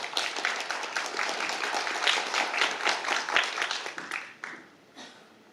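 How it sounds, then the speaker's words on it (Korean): Audience applause at a Korean policy forum greeting a lawmaker about to speak, a moderately distant, even round of clapping that thins out and dies away near the end. "박수로 맞아주시기 바랍니다."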